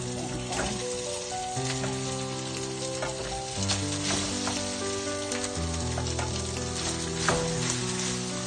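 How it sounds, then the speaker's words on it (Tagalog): Leftover rice frying in a pan with browned garlic sizzles steadily and loudly. Soft stirring scrapes and clinks cut in now and then, and there is no talking. "Nag-brown-brown na po yung garlic. Ito po, ilalagay na po natin yung bahaw na kanin."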